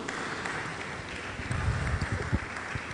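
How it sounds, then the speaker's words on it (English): Audience applause for presenters at an annual general meeting and scientific conference, a steady wash of many hands clapping at moderate volume, growing slightly denser and louder in the second half. "Clap for them."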